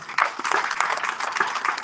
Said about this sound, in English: let's give Sir Boy a big round of applause